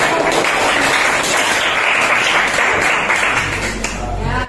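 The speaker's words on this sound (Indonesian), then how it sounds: "Berikan tepuk tangan untuk semua kelompok" A burst of classroom applause from students, loud and close, clapping from many hands sustained for several seconds before fading out.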